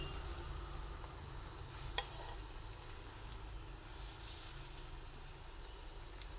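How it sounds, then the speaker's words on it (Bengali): Gram flour batter fries in hot oil, a steady low sizzle running throughout with a few small crackles and pops. "তেলটা গরম হয়ে গেছে সেই সময় আমি এক এক করে দিয়ে দিয়ে বেসনগুলোকে দিয়ে ভেজে নেবো"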